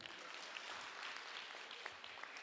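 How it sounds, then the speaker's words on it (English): Town hall audience at a community engagement meeting applauding steadily, a dense, even wash of many hands clapping at a distance with no pauses. "A round of applause to those who didn't say anything."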